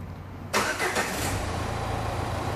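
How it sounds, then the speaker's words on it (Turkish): A Renault Symbol engine cranks and catches, then settles into a steady low idle heard close by, with no talk over it. "Arabayı çalıştırın."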